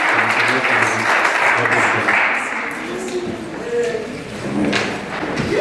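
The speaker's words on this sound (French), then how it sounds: "Nous applaudissons le Seigneur." Congregation applauding in a church during a worship service, broad steady clapping with murmured voices and some thumps underneath, sustained throughout.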